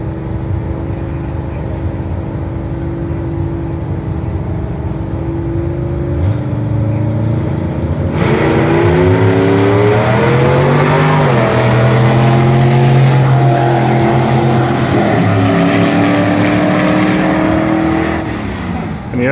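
A vintage gasser drag car and a 1957 pickup truck race at a drag strip, their engines droning steadily, then rising into a loud, sustained roar of hard acceleration that carries for the rest of the run.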